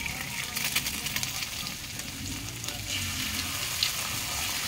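An egg fries in a hot pan while garlic fried rice (sinangag) is being made, giving a steady, close crackling sizzle with small pops throughout.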